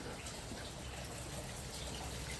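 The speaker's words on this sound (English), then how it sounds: "This is where all the water comes out from all these ceiling" Heavy rainwater gushes out of ceiling drain pipes at an apartment complex during a downpour, a dense, continuous rushing wash of water with no break, steady and fairly faint.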